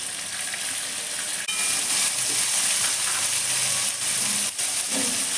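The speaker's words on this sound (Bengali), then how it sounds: "এবার এর মধ্যে শিম আর ক্যাপসিকাম দিয়ে দিলাম" Beans and capsicum fry with fish head in a pan, giving a loud, continuous sizzle and hiss with occasional stirring scrapes, heard up close.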